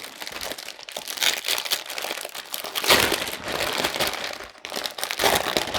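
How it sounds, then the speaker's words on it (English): Plastic packaging of a Warhammer Stormbringer magazine issue being torn open and handled: continuous close crinkling and crackling with sharp ripping bursts, loud and busy throughout, no talk. "Just tear it open."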